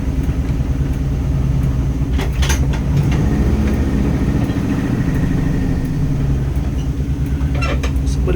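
A 1972 Ford Bronco engine idles steadily, a continuous low rumble close by with a few faint clicks and knocks over it.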